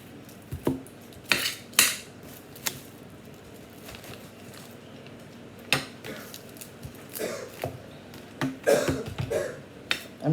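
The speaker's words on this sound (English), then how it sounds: "Let's cut up some red onion." A knife cuts a red onion on a board, giving sharp, scattered chops and taps that come in irregular bursts, close and fairly quiet against a soft kitchen background.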